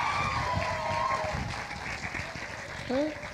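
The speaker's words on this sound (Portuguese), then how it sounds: "Uma salva de palmas para a Bia e para a Bruna" Audience applause at the KCAP 2024 event, a steady patter of clapping from a crowd across the whole stretch, fairly close and even, with a brief tonal sound near the end.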